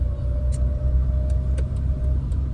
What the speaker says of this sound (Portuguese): Tô subindo de primeira que tem um morrinho aqui pra subir.